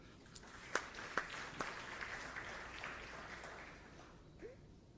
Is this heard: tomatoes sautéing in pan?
no